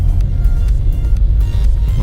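Low, steady engine and road rumble from a lifted Ram Rebel pickup truck fitted with a BDS kit while towing a Sea-Doo Spark, a loud, close, continuous drone with no speech.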